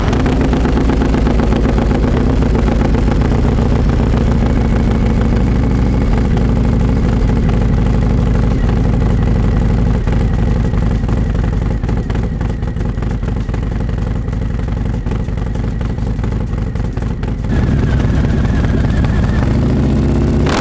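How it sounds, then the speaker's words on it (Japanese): Motorcycle fitted with a modified muffler and a cam cover runs at a loud, steady idle close by, with a rhythmic low pulsing throb that continues throughout and shifts slightly near the end. "じゃあ早速エンジンかけてみます。"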